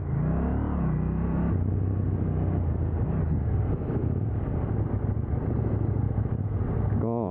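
A KTM Duke 790 motorcycle accelerates hard, its engine roaring loud and close with a rising note through the gears, wind rushing over the microphone.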